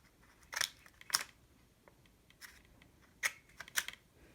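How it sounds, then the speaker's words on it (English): Scissors snipping short flaps into a folded paper airplane, four crisp cuts in two pairs with a quiet pause between them, close and alone. "grab your pair of scissors and cut two short flaps here"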